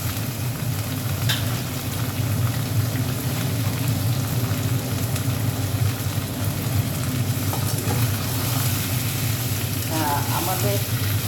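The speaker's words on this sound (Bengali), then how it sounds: "চিকেনগুলো দিয়ে ভালো করে মাংসটা এখানে ভেজে নেবো।" Chicken pieces frying in a pan, a dense, continuous loud sizzle throughout with brief stirring scrapes and a faint voice in the background.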